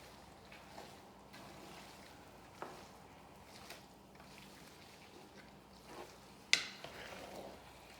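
Soft, steady bubbling of a pot of Ndolé bitter-leaf stew on the boil, quiet and close, with a few faint clinks.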